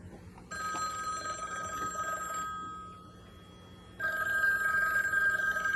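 An old-fashioned telephone bell rings indoors in a dramatic scene, two loud insistent bursts of ringing separated by a short pause, close and with no voices.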